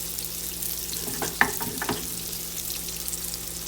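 Salmon fillet frying in a pan for a crispy finish, a soft continuous sizzle with a few brief louder crackles, no voices.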